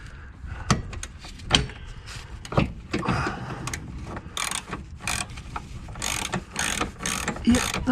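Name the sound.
ratchet running in a bolt on Volvo XC90 sidestep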